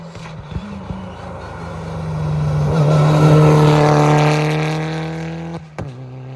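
A rally car on a stage at the 2024 Rallye de Saint Germain la Campagne approaches at speed, its engine note climbing and swelling loudly before it roars close and fades away.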